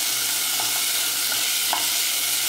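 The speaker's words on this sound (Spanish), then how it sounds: "Vamos a sofreír. Está el fuego bajito." Onion and garlic sauté quietly over low heat in a pan, giving a steady soft sizzle with a few light stirring clicks and scrapes near the middle and end.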